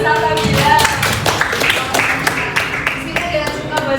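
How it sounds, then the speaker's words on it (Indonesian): Students in a classroom clap for a classmate, scattered claps and taps rising over a background of chatter and voices, fairly close and moderately loud throughout. "Tepuk tangan buat Mbak Salsabila."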